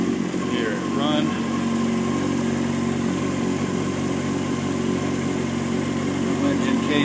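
A 2006 Honda CBR600F4i motorcycle engine with about 10,719 miles and no engine damage idles steadily up close, a continuous even drone with a couple of faint higher chirps over it.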